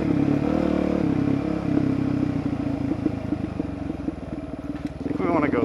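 An off-road motorcycle churns through a soggy bog near a creek crossing, its engine droning steadily close to the microphone with clattering and splashing underneath, rising in revs toward the end.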